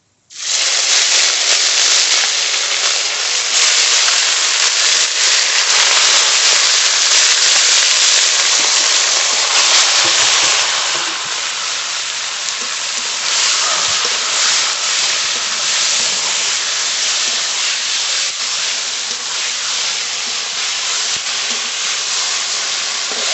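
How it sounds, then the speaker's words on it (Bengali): Spice-coated Bombay duck (lote) fish sizzles in a hot wok over a tempering of black cumin seeds and bay leaf. A loud, steady hiss starts abruptly and runs on without a break, easing slightly partway through. "মশলা মাখানো নোটে মাছ দিয়ে দেবো কড়াইতে"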